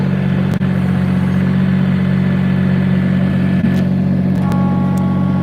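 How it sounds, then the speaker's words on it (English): A heavy tractor engine runs steadily and loudly close by, a constant low rumble with a faint click near the start. "I'm on my tractor here"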